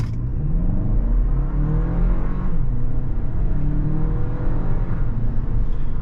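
A 2023 Toyota Crown Hybrid Max Platinum picks up speed on a test drive, heard from inside as a steady, low engine and road rumble with a soft, rising whir that holds for several seconds. No one speaks.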